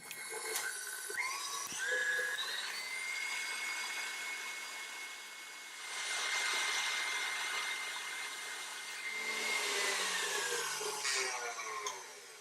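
An electric mixer creaming butter with smooth peanut butter in a bowl, a steady high whine that swells and eases in pitch and loudness as the beaters work, close and continuous with no speech.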